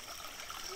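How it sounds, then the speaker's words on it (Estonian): A very small stream trickles beside a forest trail with caves and hollows, a soft, steady, faint water babble throughout the short moment with no talk. "see veenire, mis siin on, on nagu väga väike"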